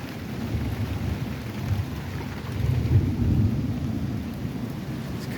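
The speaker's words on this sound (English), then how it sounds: "we're in a thunderstorm right now. It's raining pretty hard." Heavy rain pours steadily through a late-summer thunderstorm among tropical plants and palms, with a deep rumble of thunder swelling near the middle and a light breeze underneath.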